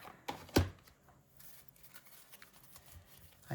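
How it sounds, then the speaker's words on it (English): A deck of playing cards being shuffled for a casino-themed challenge, with a sharp riffle burst early on followed by faint scattered card flicks and rustles close by. "I need to give these a really good shuffle."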